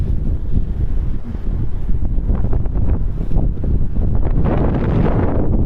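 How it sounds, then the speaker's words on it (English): Strong wind blowing into the microphone during an outdoor walk, a loud continuous roar and buffeting with gusty swells throughout, no voices. "we're gonna have that wind in our face now"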